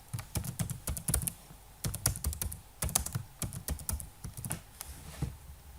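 Someone types a name on a computer keyboard, with quick bursts of close, crisp key clicks separated by short pauses and no talking.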